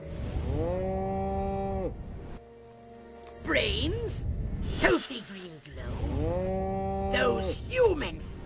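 Cows mooing in the video game Destroy All Humans, long low drawn-out moos with a break between them and gasping animal calls mixed in, loud and close.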